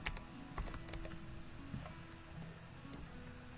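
Fast, uneven clicking of keys on a computer keyboard while entering a place name into GIS software, close and steady throughout with no talk over it.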